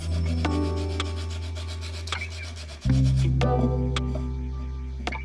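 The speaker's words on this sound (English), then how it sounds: "I've got some 180 grit sandpaper there" Steady rasping strokes of 180 grit sandpaper rubbing against wood, close up, with a few sharp scrapes and a brief shift in pitch midway.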